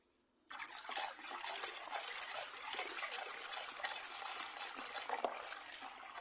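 Neem phenyl cleaning liquid pours and is stirred in a container, a steady close trickle and gush of liquid starting abruptly and running on without pause.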